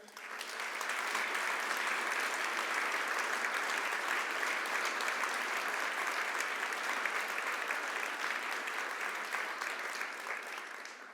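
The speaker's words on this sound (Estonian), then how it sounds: "Nii et aplaus ka meie mentoritele." An audience applauds mentors at a presentation event, a steady, dense wash of many hands clapping that runs unbroken for about ten seconds before easing slightly at the end.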